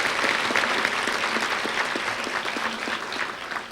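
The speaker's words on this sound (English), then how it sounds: "Let's extend our applause to these past year Hall of Famers" Steady applause from the audience at a 2007 sports Hall of Fame banquet honoring past inductees, dense clapping that fills the room and tapers slightly at the end.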